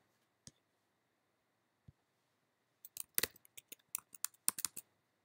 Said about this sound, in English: For the username field, I'll be typing in user, and for the password field, I'll be typing in pass.